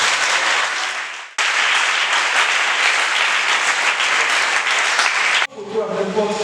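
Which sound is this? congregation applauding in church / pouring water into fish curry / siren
congregation applauding in church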